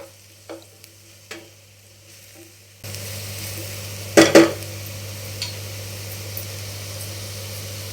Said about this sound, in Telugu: మష్రూమ్ ముక్కలు వేసిన తర్వాత ఆ మసాలా అంతా ముక్కలకి బాగా పట్టే విధంగా కలుపుకుందామండి